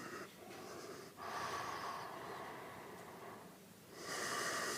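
Deep yoga breathing during a Surya Namaskar sun salutation session: slow, close, airy inhales and exhales with a louder rush of breath at the end, no talking.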